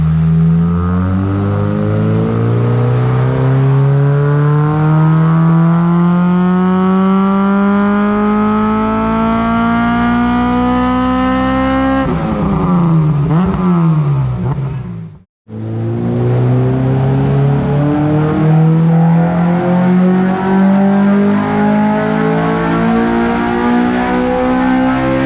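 A race car on a dyno revs hard through long climbing pulls, engine pitch rising steadily, then a brief lift and near-silent gap before another loud, sweeping run up through the gears.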